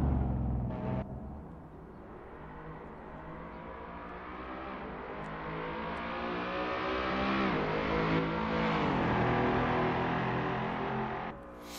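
Wyra BC race car driven in Assetto Corsa, its engine droning steadily and rising in pitch under sustained acceleration with harmonic whine, loud and continuous throughout.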